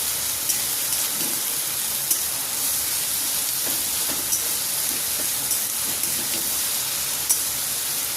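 Spices fry in a pan with onion and garlic, a steady close sizzling hiss with occasional small pops and crackles throughout, with no voices.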